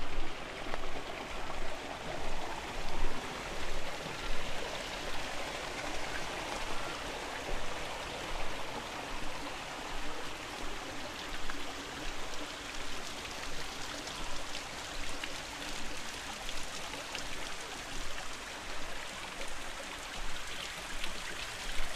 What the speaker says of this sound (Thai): เวลาฝนตกโลกมันสะอาดจริงๆนะคะ